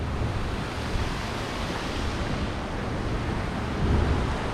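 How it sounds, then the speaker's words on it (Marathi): Loud, continuous rushing of the Kadvi River flowing under a bridge near Malkapur, Shahuwadi, Kolhapur, a dense broad roar with no voices. "हिला कडवी नदी म्हणतात जिच्यावर जिच्या पुलावर मी उभा आहे"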